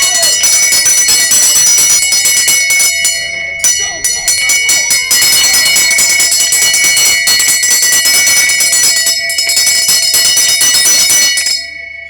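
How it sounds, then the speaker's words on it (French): A bell rung continuously and loudly at a stage of a Tour de France event, its bright metallic ringing dense and sustained for about twelve seconds with a couple of brief pauses. "Pour la cloche, c'est parti les filles."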